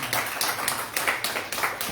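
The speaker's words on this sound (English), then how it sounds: "Round of applause." A short round of applause at a community political gathering, with many hands clapping together in a steady, close patter for about two seconds.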